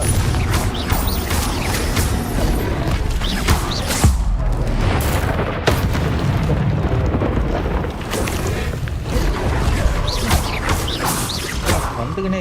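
A Confringo blasting spell bursts amid busy Hogwarts Legacy combat, with sharp booming hits and clattering mechanical effects layered over a constant rumble.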